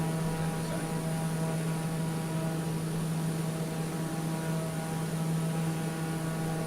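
Steady, even drone of a Black Square TBM 850 turboprop engine in Microsoft Flight Simulator, a constant cockpit hum with a strong low tone and no talking over it.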